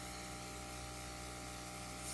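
An airbrush sprays paint in a continuous, even hiss that stays steady and close throughout, with no breaks or talk.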